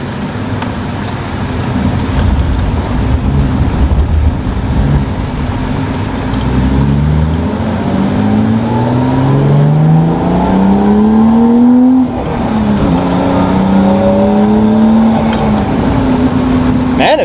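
A turbocharged JDM drift car engine revs and accelerates through several rising gear pulls, loud and close from inside the cabin, with a brief dip between shifts.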